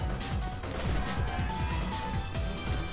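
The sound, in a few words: glass breaking in a video game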